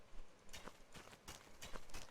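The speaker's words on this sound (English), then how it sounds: "It sounds like you're digging in the dirt." Planting seeds in the survival game Rust gives a subtle dirt-digging sound: soft scraping, crunching thuds in an irregular run of about six, faint and close with no talk.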